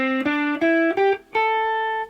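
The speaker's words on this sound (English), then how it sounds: "if I play you an octave of the minor pentatonic scale in pattern 1" An electric guitar picks one octave of the minor pentatonic scale in pattern 1, a short ascending run of single notes, each ringing clearly, ending on a held higher note.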